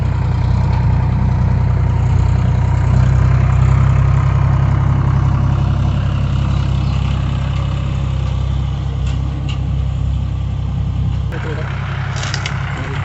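John Deere tractor engine running after starting as it moves across a farm field under GPS auto-steering, a loud, continuous low rumble with people talking over it.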